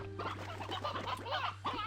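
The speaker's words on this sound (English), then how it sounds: "What is a stony hen doing out of its pen?" Stony hen from Slime Rancher 2 clucking in a rapid series of short, close calls over a steady low game hum.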